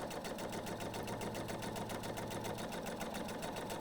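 A sewing machine runs steadily, stitching pieced quilt units together in a fast, even mechanical rhythm that stays loud and continuous throughout with no talking.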